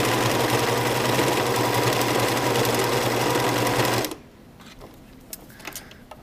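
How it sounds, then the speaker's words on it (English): A sewing machine runs steadily, top stitching around the edge of a cloth pad with a loud continuous whir for about four seconds, then stops, leaving quiet handling clicks. "I'm going to start just by doing a simple top stitch all the way around the outside"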